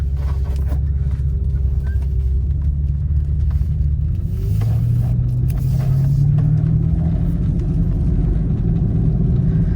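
A BMW E31 850i engine idles steadily with a low, continuous rumble, close up, with a brief rise in pitch partway through.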